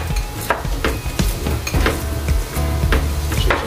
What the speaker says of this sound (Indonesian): Ini tangan kiri saya sedang mengaduk pokcoy ya